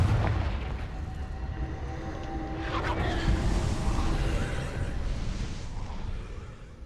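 A Confringo fire-blast spell explodes in the Hogwarts Legacy video game: a sharp booming burst midway, with a falling whoosh, over a dense, rumbling battle backdrop.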